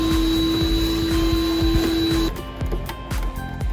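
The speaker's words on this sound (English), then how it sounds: "We vacuumed every corner of the carpet, thus leaving it free for cleaning." A vacuum cleaner works over the carpet of an Opel Kadett van, a loud steady whine with a high tone that drops partway through, while the nozzle bumps and scrapes repeatedly.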